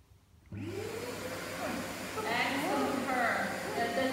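A vacuum cleaner starts abruptly and runs with a steady loud whirring drone close to a puppy, while a person talks over the motor noise.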